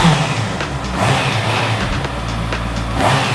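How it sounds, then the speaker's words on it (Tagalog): Big bike motorcycle engine idling with no muffler fitted during a sound check, a steady loud, rough drone with slight swells and no speech over it. "Siyempre, wala pang muffler na kaya ganito pa lang siya tahimik."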